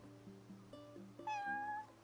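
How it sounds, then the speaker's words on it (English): A cat in Final Fantasy XV gives one clear, drawn-out meow near the end, heard over soft background music. "Hello, cat."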